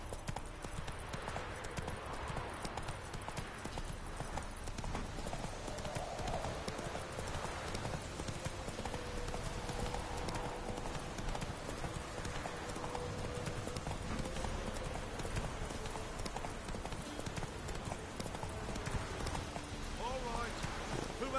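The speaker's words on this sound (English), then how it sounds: "Giddy up. Whoa there, Roach" Horse hooves clip-clop at a steady gallop in The Witcher 3 video game, a continuous rhythmic pounding that runs under game music and characters' conversation throughout.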